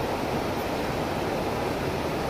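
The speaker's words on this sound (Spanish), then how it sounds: "Ahí viene la lluvia, mira." Rain approaching near a river in Chiapas, heard as a loud, unbroken rushing hiss of falling water that stays steady throughout, with no voices over it.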